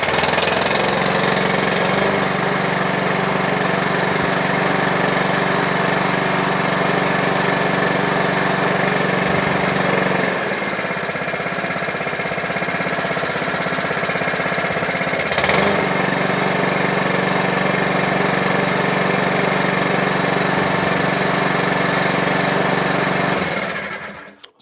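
A Mountfield HP42R lawn mower with a repaired throttle cable runs loud and close at a steady engine drone, with brief dips in pitch before it cuts out at the end.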